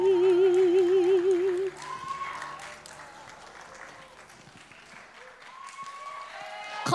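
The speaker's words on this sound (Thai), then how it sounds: "ขอเสียงปรบมือดังๆค่ะ" Audience applause at the Miss Earth Thailand 2023 final show breaks out as a sung ballad ends, a dense, steady wash of clapping filling the hall for several seconds.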